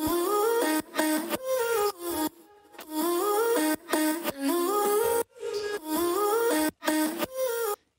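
Chopped, pitched vocal fragments carry the drop of an electronic track, bright and loud, stuttering in short bursts with sudden gaps and hard cuts in a repeating rhythmic pattern.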